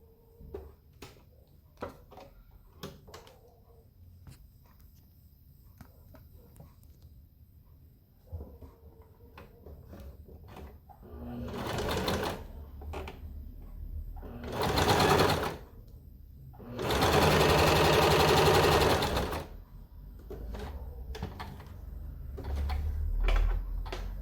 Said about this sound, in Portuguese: vá para a máquina e passe outra costura aqui embaixo